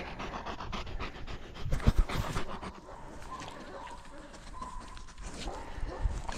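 A dog pants steadily in quick, rough breaths close by, with occasional louder bursts and light shuffling, and no clear speech over it.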